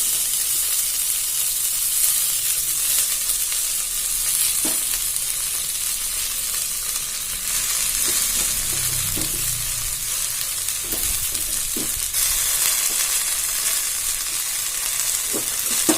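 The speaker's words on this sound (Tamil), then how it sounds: "இது 5 நிமிஷம் நல்லா வதக்கிக்கோங்க." Mint leaves sauté in oil with tamarind and dried chillies for mint rice, giving a continuous, fairly loud sizzle with occasional spoon clicks and stirring scrapes, close and without talk.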